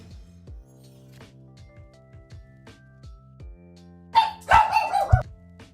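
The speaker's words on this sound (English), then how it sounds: "Dogs are being little psychos." Dogs barking in a quick burst of several sharp, fairly close barks that follow a stretch of rhythmic tapping, with no talk over them.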